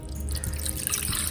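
Water poured into a cooking pan with masala-coated chicken, a close, steady splashing and trickling that runs the whole short stretch without talk.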